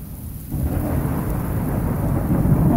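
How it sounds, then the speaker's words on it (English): Steady, loud rain pouring outdoors at Natural Bridge with a deep rolling rumble of thunder swelling after the first half second, a continuous dense wash close by and no voices. "I love sitting out here watching the rain"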